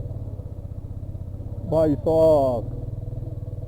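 A motorcycle engine labours up a steep, curvy mountain road near Manikaran and Kasol in Himachal Pradesh, a low throbbing idle-like drone throughout while a man briefly calls out over it.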